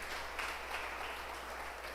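Church congregation applauding during a sermon, a steady wash of clapping at moderate distance that holds evenly for the full two seconds.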